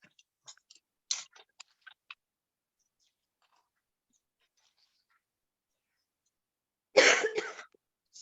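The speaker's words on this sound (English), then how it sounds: "Excuse my coughing" A few short, close coughs sound at the start, then silence, and one louder cough near the end.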